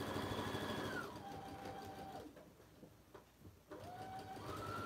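A sewing machine that has been acting up runs steadily with a pitch that drops and rises again, goes quiet briefly in the middle, then resumes its close, continuous whir.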